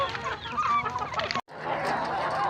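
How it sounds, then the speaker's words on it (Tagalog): Backyard rooster clucking and calling, a few short bursts of fowl vocalization at moderate volume, cut by a brief gap before a second stretch of clucking and farm ambience. "Pakantay si manok guys."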